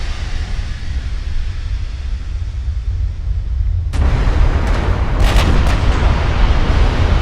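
Heavy naval guns firing and shells striking in a dreadnought-era battleship game, first as a low rumbling bed, then a sudden loud blast followed by sustained booming impacts and crashes.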